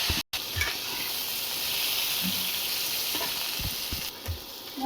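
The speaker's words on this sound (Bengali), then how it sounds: "তো চলো এবার আমি নুন হলুদ দিয়ে একটু পেঁপেগুলো ভেজে নেব।" Papaya pieces fry with salt and turmeric in a pan, giving a constant close hiss and sizzle with occasional soft stirring knocks.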